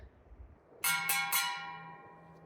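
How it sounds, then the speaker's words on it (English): A small metal bear bell on a steep hiking trail rings three quick times close by, each strike leaving a bright ringing tone that fades out slowly. "See how the bear bell works."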